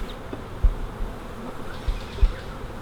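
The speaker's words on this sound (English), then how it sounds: "That is a lot of bees." Honey bees hum steadily around an open hive with separate entrances, a faint continuous buzz with a few soft bumps, no one talking.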